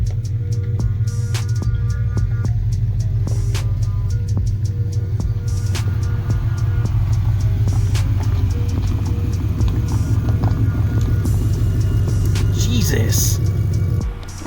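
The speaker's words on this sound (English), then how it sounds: "Currently off-roading." A Ford Mustang rolling off-road over a gravel driveway, heard from inside as a constant low engine drone and rumble with occasional crunching and rattles, while people talk over it.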